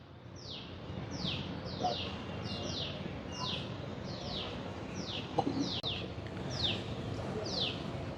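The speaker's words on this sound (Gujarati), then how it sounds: "અહીંયા તમને અમુક પક્ષીઓનો પણ કલરવ તમને સંભળાતો હશે." Birds chirp near a temple at Bagdana Dham, repeated short sweeping calls coming every half second or so over a soft outdoor background, moderately close and with no talking.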